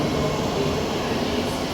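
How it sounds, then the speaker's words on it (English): The 14:15 ScotRail service from Dalmuir to Larkhall, a class 320 electric unit, arrives at Glasgow Central station, a steady, loud, broad rumble and rush of the train close by with no pauses. "Driving in now is the 1415 ScotRail service from Dalmuir to Larkhall"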